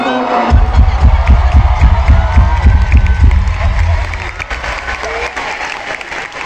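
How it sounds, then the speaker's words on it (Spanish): An audience at a rock concert in the Auditorio Nacional breaks into loud, dense applause with some cheering, strong for about four seconds and then thinning to scattered clapping and crowd murmur. "Un aplauso, por favor, para él."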